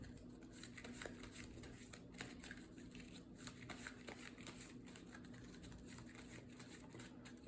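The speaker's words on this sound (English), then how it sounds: "we will shuffle up the player deck here" A deck of playing cards is shuffled for a solo card game, a soft steady riffling and rustling that stays faint and close, with no talking.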